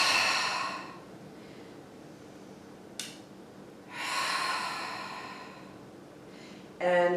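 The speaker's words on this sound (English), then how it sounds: "We're just going to do some deep Ujjayi breathing." Deep Ujjayi yoga breathing close to the microphone: a long, throaty exhale, a quiet pause, then another slow, rushing breath, ending with a short, sharp intake.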